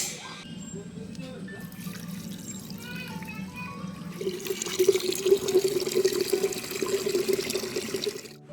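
Rooftop plants being watered: a steady splash and trickle of water onto soil and pots, growing fuller midway, heard fairly near with a voice talking over it at times.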